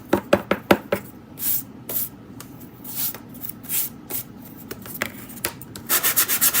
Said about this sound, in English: stuff that comes off when you're sanding